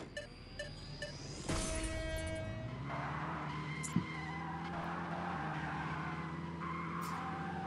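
Car drifting in the mobile game Skiddy Car, with synthetic tire skids, engine tones and short chiming game effects repeating over several seconds, no voices.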